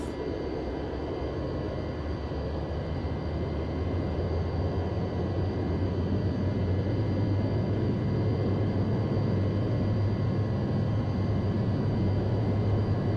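Steady, loud jet engine roar of a Boeing 707 taking off in Microsoft Flight Simulator X, a continuous broadband rumble with a low drone rising slightly as the aircraft accelerates down the runway.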